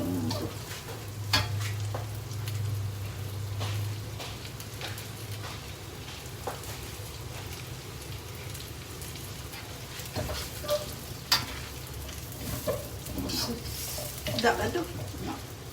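Meat frying with onions in a pan, a steady sizzle with intermittent stirring scrapes and a low hum early on, while a voice talks faintly in places.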